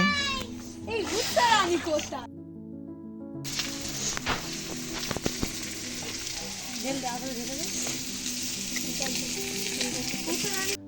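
Oil poured into a pan on an outdoor clay stove at a winter picnic sets off a steady sizzle that runs under chatter, children's voices and brief clatter, after a short quiet gap.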